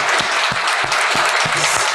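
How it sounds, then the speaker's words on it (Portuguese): A crowd gives a standing ovation in a hall, dense continuous clapping with a few heavier thumps mixed in, loud and sustained throughout. "sendo aqui aplaudida de pé, a voz da sociedade"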